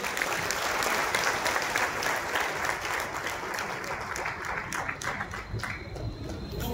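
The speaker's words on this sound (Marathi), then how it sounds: "एकदा ह्या लोकांसाठी जोरदार टाळ्या होऊ द्या" Loud, sustained applause from a meeting audience welcoming visitors who travelled from Bidar, Bengaluru and Bagalkot, a dense steady clatter of many hands filling the room without pause.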